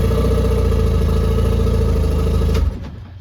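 Outboard engine on a 1988 Princecraft aluminum boat, run out of the water, chugging and clattering loudly at a steady idle close by, then cutting off abruptly near the end.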